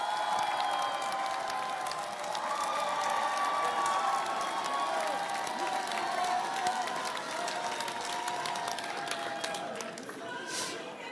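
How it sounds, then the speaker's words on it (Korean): A large crowd at an outdoor Democratic Party concert rally in South Jeonnam applauds and cheers loudly and continuously, with shouts mixed into the clapping as it slowly tapers near the end. "다시 한번 이재명 대표님께 뜨거운 박수를 보내주시기 바랍니다."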